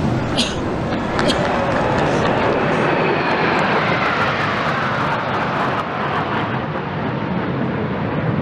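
Aircraft fly past overhead during an outdoor state ceremony, a loud broad engine roar that holds steady across several seconds with background commotion.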